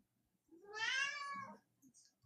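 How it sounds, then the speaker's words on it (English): A pet cat gives a single clear, drawn-out meow close by in a quiet room, followed by faint soft shuffling. "you hear my kitty?"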